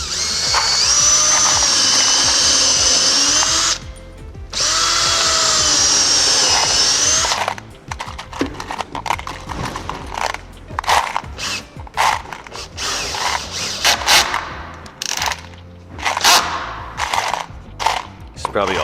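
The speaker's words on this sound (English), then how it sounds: "Probably all you can hear in that video. Me sorting through the screws." Screws being rummaged and sorted by hand while building a table for an HO slot car racetrack, a steady metallic rattle and clatter at close range, broken up by pauses and bursts of clinking, with a voice talking partway through.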